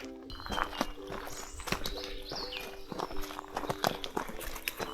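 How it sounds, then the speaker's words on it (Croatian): Small birds chirp high in the treetops of a snowy winter forest near high peaks, brief thin calls scattered over steady footsteps or hoof-like clopping in the foreground. "možete čuti cvrku ptica u krošnjama"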